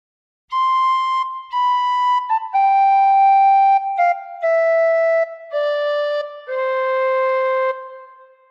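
Recorder playing Joy to the World, a clean run of single descending notes, each held with short gaps between, ending on a longer low tone; played alone and close.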